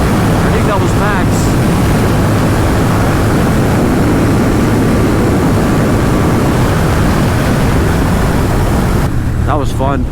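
A 2022 Triumph Thruxton Ton Up motorcycle engine screaming at high speed near the rev limiter, a loud continuous drone buried in heavy wind rush, with brief voice bursts at the start and end.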